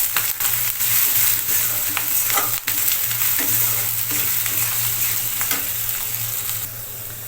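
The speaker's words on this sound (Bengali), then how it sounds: "আদাটাকে দিয়ে ভালো করে নেড়ে চেড়ে একটু ভেজে নিচ্ছি।" Grated ginger and sliced green chillies fry in oil in a pan, giving a steady close-up sizzle broken by repeated scraping stirs of a spoon, with no talking.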